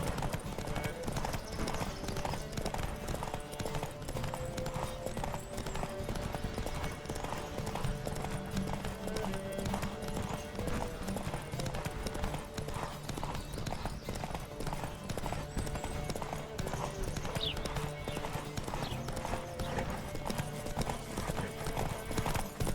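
A horse gallops at full speed through a race in The Witcher 3, its hooves drumming in a steady, rapid clip-clop that runs loud and continuous throughout, with game music and a brief whinny mixed underneath.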